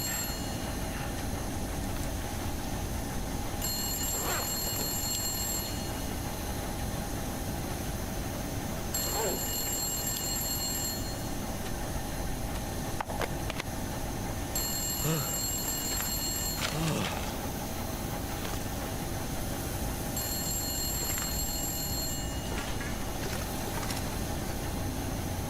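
In a prison-escape video game, a telephone rings in four evenly spaced trilling bursts, each about two seconds long, over a steady rumbling mechanical background.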